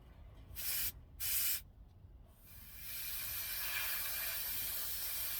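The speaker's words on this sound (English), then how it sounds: "Gotta burn that in because I touched it, so sprayed it extra thick right there." Enamel paint sprays onto a scale model of a '63 Mustang II in two short hissing bursts, followed by a longer continuous spray hiss near the can.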